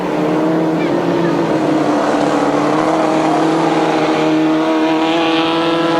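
Grasstrack racing sidecar outfits at a 1992 British Masters qualifier roar loudly and continuously nearby, engines dropping in pitch as the riders throttle off under a red flag.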